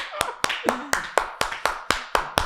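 Hands clap in a steady run of about ten sharp, evenly spaced claps, close and loud, a one-person round of applause for the Champions League with a faint voice murmuring underneath.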